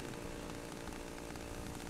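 Chainsaw in the horror video game Cry of Fear, a steady, dense buzzing engine drone with a rough low rumble that runs continuously without pause at moderate loudness.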